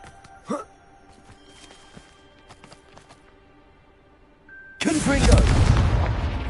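A Confringo fire spell in Hogwarts Legacy, a few small pops and bursts followed by a sudden loud explosive blast that rumbles and roars to the end.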